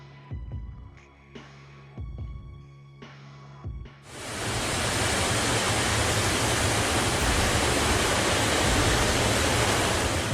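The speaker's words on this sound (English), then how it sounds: "the debris flow at Ilgraben surges forward, swallowing everything in its path" A few dull thumps give way to a sudden, loud, rushing roar as a debris flow surges down a channel at Ilgraben, churning without a break.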